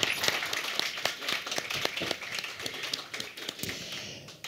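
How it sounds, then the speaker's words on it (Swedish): A small audience at a Swedish panel talk on digital society vulnerability gives scattered, fairly quiet applause, with individual claps ringing out steadily across several seconds. "Och en varm applåd."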